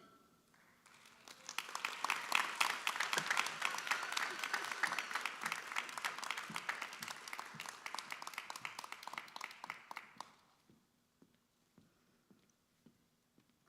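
A commencement audience at a Northwestern Health Sciences University graduation applauds a graduate of the College of Acupuncture and Chinese Medicine. The sustained, dense clapping swells quickly, holds for several seconds, then fades to a few scattered claps.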